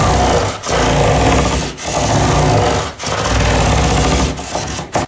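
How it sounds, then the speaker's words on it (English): Wet and dry sandpaper of 400 grit is rubbed back and forth over an acoustic guitar, a loud, close, continuous scratchy rasp with a few brief pauses between strokes. "I've got some wet and dry sandpaper here. This is 400 grit"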